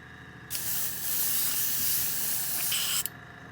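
An airbrush blows through leftover Vallejo grease-oil paint in a loud, close, continuous spray hiss. It starts abruptly, holds for about two and a half seconds and cuts off sharply, with a low background hum around it.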